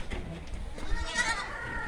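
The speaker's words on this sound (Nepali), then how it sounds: "यो चाहिँ रेड बोयर बोका हो" A Red Boer buck goat on a goat farm lets out a single drawn-out bleat, close and moderately loud, against background farm noise and faint human voices.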